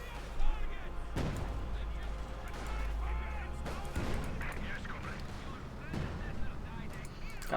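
Battle sounds from the video game Company of Heroes 2: machine gun fire and heavy explosive booms crack repeatedly at irregular intervals, with a voice talking over the combat throughout.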